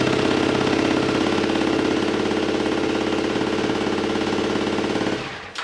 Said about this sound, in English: It only runs on one cylinder.